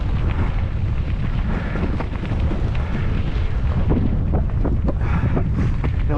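Cold outdoor wind buffets the microphone in loud, continuous rumbling gusts with steady roaring noise and no talking.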